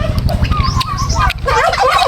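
Turkeys gobble near a farm, several loud rapid warbling calls overlapping in bursts over a constant low rumble, with no speech.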